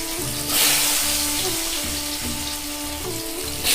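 Potatoes fry in hot oil in a kadai for chicken khichdi, a steady close sizzle and bubbling hiss that swells briefly now and then, with no talking.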